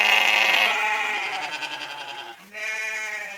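Sheep bleating close and loud, two drawn-out calls with a brief pause between them, heard alone.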